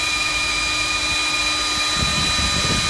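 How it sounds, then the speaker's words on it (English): A CS Unitec BDS MAB4A5 magnetic drill boring through steel plate, a loud steady machine whine with sustained high tones and a low rumble that grows rougher and grinding near the end. "they have loaned us this amazing MAB4A5 mag drill"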